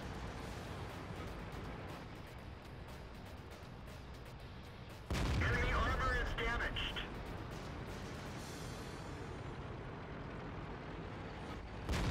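The FCM 50t tank in World of Tanks fires its cannon in one loud, sudden blast midway through. Steady battle rumble fills the scene before the shot, and the blast rings out and fades afterward.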